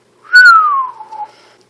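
A man's whistle imitated by a narrator's voice: one clear, loud note sliding slowly downward over about a second, then trailing off quietly, alone with no talk.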